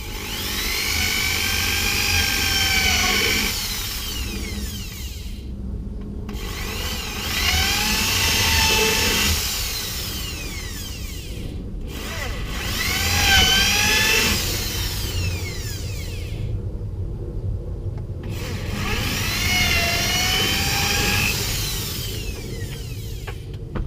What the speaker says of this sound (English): a combi countersink drill, which is great, so you can drill and countersink at the same time